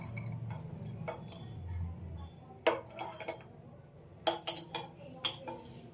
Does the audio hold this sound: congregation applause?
no